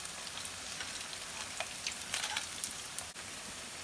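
Pakoras deep frying in hot oil for kadhi pakora, a steady close crackling sizzle with scattered sharper pops and a brief dip near the end, no voices.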